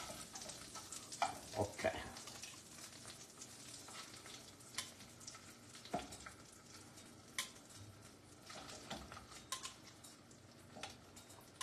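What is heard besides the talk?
scallops frying in a pan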